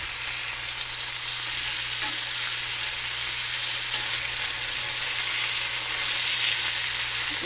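Mushroom steaks sear in a hot frying pan with a steady, even sizzle that holds at a constant level from start to finish, with no talking.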